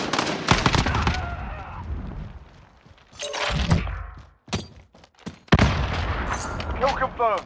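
Gunfire and impacts in the video game Call of Duty: Modern Warfare, with loud bursts of shots, thuds and crashes in irregular clusters separated by brief lulls, under game voice chatter.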